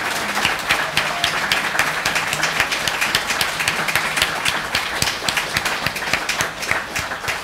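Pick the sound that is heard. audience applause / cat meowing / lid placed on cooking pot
audience applause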